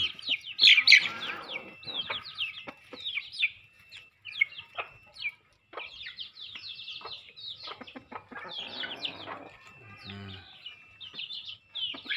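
Chickens cluck and chirp steadily, with a busy flock of overlapping high calls close by and a few louder squawks.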